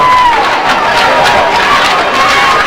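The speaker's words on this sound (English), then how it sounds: "The cheers went up from the crowd on the far side" A crowd roars from the far stands at a 1998 high school football game between Fort Frye and Monroe Central, a loud, sustained wash of cheering and chatter with no break.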